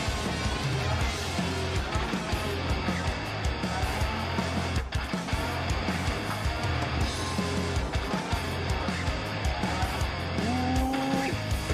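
Peugeot rally car climbing the Pikes Peak course in the Dirt Rally racing game, its engine droning steadily and loud throughout with bursts of tire squeal and skidding, a rising gear whine near the end.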